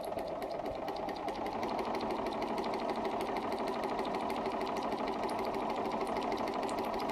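A Bernina 135 sewing machine runs steadily while stitching around a curve, its close, continuous motor whir carrying a fast, even needle clatter throughout with no pauses.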